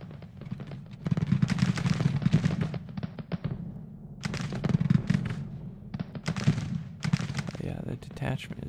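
Long-range gunfire in a video game, heard as bursts of rapid popping shots that come in clusters with short pauses between them, fairly loud, with talking mixed in.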